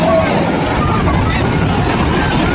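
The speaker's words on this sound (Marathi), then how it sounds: "हे बघा इथे बोट रायडिंग आहे" A boat ride on the open sea at Ganpatipule beach, with a steady broadband rush of water and wind noise throughout, loud and close, while voices can be heard faintly underneath.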